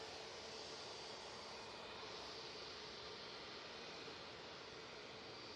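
Hainan Airlines jet airliner at Manchester Airport, a steady broadband engine roar and rush holding at even loudness throughout, fairly distant and continuous with no talk.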